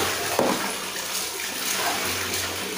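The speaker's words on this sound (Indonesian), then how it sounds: "keran air itu otomatis akan terbuka lagi dan mengisi air lagi" Water runs steadily from a tap into a bathtub that an automatic faucet is refilling, a continuous splashing flow at close range with no voices.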